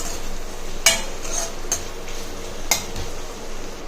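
Drumsticks and cowpeas sautéing in a pan, with a soft steady sizzle and a few sharp clinks of a spoon stirring against the metal, close and without voices.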